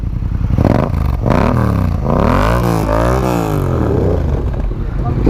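A Yamaha MT09 fitted with an Akrapovic carbon exhaust revs loudly and close by, its engine note sweeping up and down through several throttle blips before settling.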